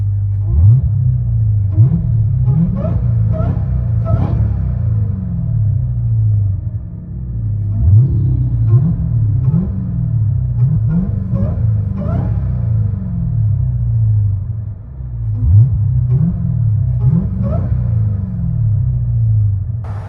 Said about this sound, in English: This is with the valves open, Carven mid, and Valvetronics rears with the valves open.